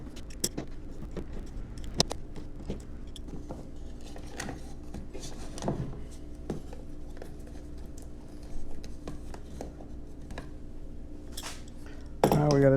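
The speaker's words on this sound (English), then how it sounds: "now we gotta start removing these screws" Small metallic clicks, taps and scrapes as screws are backed out of the steering handle cover on a Native Slayer Propel 10 kayak, close and intermittent, with a louder clatter near the end.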